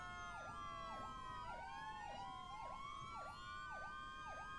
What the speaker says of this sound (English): there's all sorts of goofy sirens going on right now